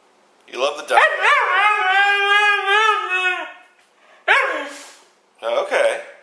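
A dog gives drawn-out, talking-style vocalizations, a long warbling howl-bark followed by two shorter yowls. They are close and loud, with no other voices.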